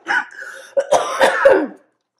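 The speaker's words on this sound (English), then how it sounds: "I start coughing, burping, I don't know how to act" A person coughs and clears their throat several times in quick succession, close and fairly loud, with no other sound around it.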